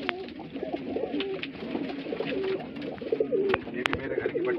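Pigeons coo repeatedly nearby in a rolling, throaty pattern of overlapping calls, with faint background noise and no clear talk.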